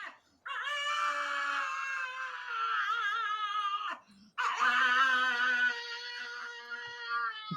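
A dog whining and howling in two long, wavering cries split by a brief pause, close and fairly quiet in an otherwise still room.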